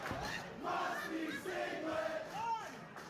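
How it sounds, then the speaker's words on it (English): Wrestling crowd at a PPW show chanting in unison, a dense roar of many voices rising and falling in rhythmic swells over about three seconds, filling the hall. "And a new crowd chant has become of the PPW Nation."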